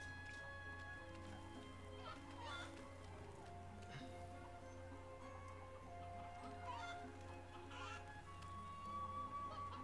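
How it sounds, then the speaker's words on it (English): Chickens cluck in the MediEvil remake video game, pecking at feed in a level, with short clucks scattered over a steady droning game soundtrack throughout. "So pretty much you just gotta leave the chickens over here to eat the feed on this little rice."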